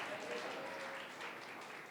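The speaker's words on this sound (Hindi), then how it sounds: "ताली बजाओ" Church congregation applauding, a dense even wash of clapping hands from a crowd, steady and somewhat distant, lasting the whole moment with no single claps standing out.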